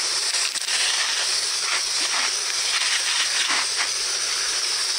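Water sprays in a steady, loud hiss over polished rocks from the Alvord Desert as they are rinsed before pre-polish, continuous and unbroken with no voices.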